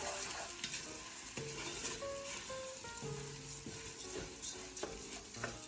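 Two cups of arborio rice are stirred in a frying pan for a chicken and rice dish: a soft sizzle with repeated scraping strokes, faint and close, with gentle music underneath.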